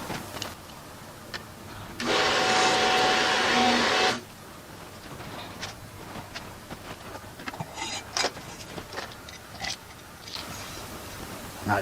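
A power drill whines loudly for about two seconds as it bores a hole, then stops, leaving scattered clicks, taps and handling noises, with another brief burst near the end.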